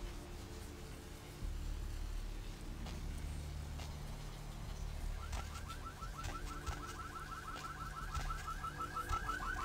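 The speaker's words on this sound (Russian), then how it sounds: "Пробежался, сразу две сигнализации активировал." Car alarms go off in Vampire: The Masquerade - Bloodlines, a repeating electronic warble that begins midway and keeps pulsing steadily, over a low ambient hum from the game's street scene.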